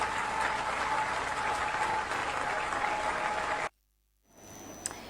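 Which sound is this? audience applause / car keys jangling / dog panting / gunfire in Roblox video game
audience applause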